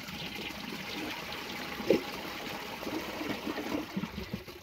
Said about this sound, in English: I'm going to give a tank and bowl view flush